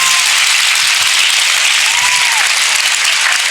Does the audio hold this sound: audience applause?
yes